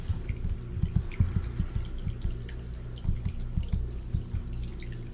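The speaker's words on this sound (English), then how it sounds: "Can you guys hear my water fountain?" An indoor water fountain drips and trickles in an irregular patter, close by and fairly quiet, with a faint low hum underneath.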